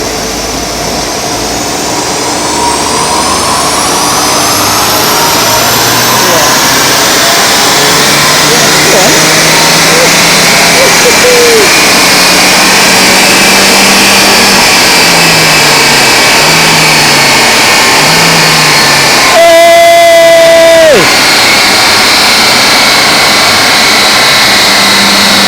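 Suzuki Swift Sport Hybrid, a standard car, on a dyno pull: a loud continuous engine drone climbing steadily in pitch through a long run to the top, then dropping off, with a brief shout near the end.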